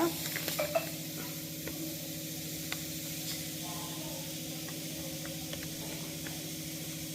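Ginger, green chilies and potato pieces fry in a pan for upma, giving a steady, close sizzle with a low background hum and a few light clicks of stirring.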